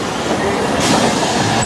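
A steam-hauled train in the Scottish Highlands, pulled by a British locomotive built in 1945, produces a loud, dense, continuous rumble and rattle of the rolling carriages, heard close throughout.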